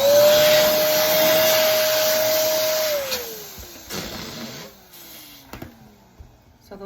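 An electric balloon pump inflating 11-inch and 18-inch latex balloons for a garland: a loud steady whirring drone with a falling whine as the balloon fills, then dropping away into quieter handling noises and short bursts.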